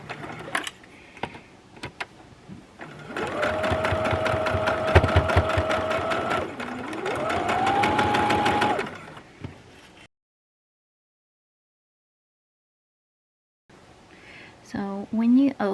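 A sewing machine stitches quilt pieces for a Starling quilt, running in a steady close mechanical whir for several seconds before stopping, with someone talking before and after it runs.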